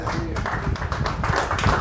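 Congregation at a church service clapping hands together in a brief burst of overlapping claps, close and fairly busy, with voices mixed in.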